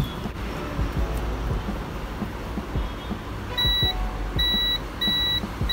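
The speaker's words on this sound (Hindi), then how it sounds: "देखें दोनों तरफ भी बीप दे रहा है" Continuity beeps from a multimeter probing a shorted iPhone 12 Pro Max logic board, three clear repeated tones in the second half over steady background noise.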